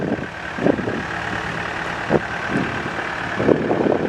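A 2014 Takeuchi TB285 compact excavator, a pre-emission machine on 18-inch tracks, runs steadily while the boom swings, its engine droning nearby with a few short knocks and clunks from the moving hydraulics.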